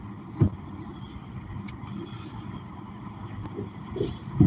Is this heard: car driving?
yes